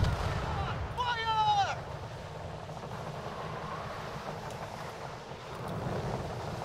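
A video game mortar fires once as a sharp burst with a descending whistle-like tone trailing off, followed by a rumbling, wind-blown ambience.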